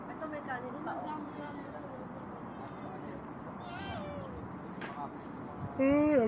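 A cat meows a few times at a memorial garden, short rising and falling calls over steady background murmur and talk, with a louder, closer meow at the end.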